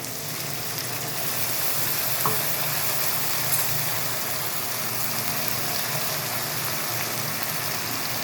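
Ginger-garlic paste goes into a pan of softened tomatoes and sizzles in a steady, even hiss that continues for several seconds, close by and with no one talking.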